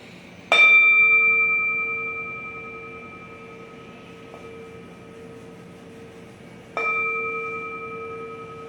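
A meditation bell at a Taoist gathering in Rio de Janeiro struck twice, several seconds apart, each strike ringing out clearly with a long, slowly fading tone in a quiet room.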